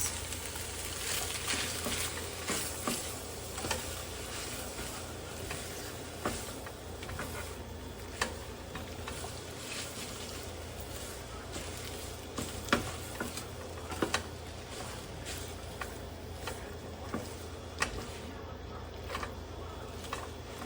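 Chow fun noodles with spam stir-fried in a hot pan, a steady sizzle and frying hiss running throughout with frequent scraping, clacking spatula strokes as the food is tossed, fairly close.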